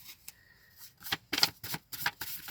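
Playing cards are shuffled up close with the non-dominant hand in a series of quick riffling bursts with short gaps between them.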